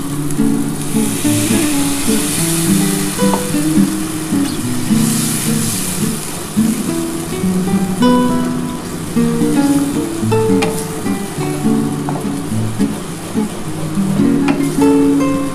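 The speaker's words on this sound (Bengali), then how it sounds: "এবার আমি জল ঢেলে দেবো।" Water is poured into a pan of fried spice mixture, setting off loud, continuous sizzling and bubbling with scattered crackles and clinks of the pan throughout.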